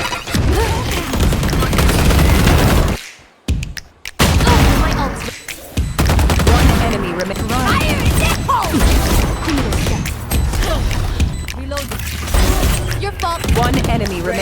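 Gunfire in a competitive shooter video game, rapid bursts of shots and impacts in a dense, loud mix with a brief drop to near silence early on, game sounds running continuously.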